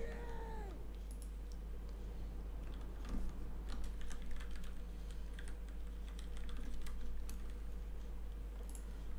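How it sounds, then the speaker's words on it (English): Computer keyboard typing during a Rome 2 Total War tournament match, a steady run of quick clicking keystrokes over a continuous game soundtrack, with a short cat-like meow near the start. "Sorry, I was just typing to someone on Steam."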